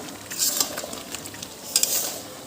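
Desi chicken curry meat frying in hot oil in a pot, with soft sizzling, stirring scrapes and a couple of sharper spattering bursts, close and fairly quiet with no talk.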